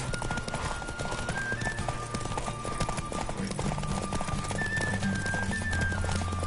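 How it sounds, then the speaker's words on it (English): Fast, steady clip-clop of a galloping horse in The Witcher 3 video game pounds throughout, layered with game music and ambient effects. "Don't spare the horse!"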